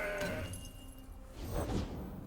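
Mountain Goat card in Legends of Runeterra, a short bleating cry sounding alone over steady game ambience.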